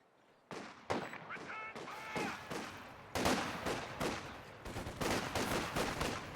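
Company of Heroes 2 battle gunfire, repeated sharp shots and rattling bursts of fire at varying distances, growing denser and louder over several seconds.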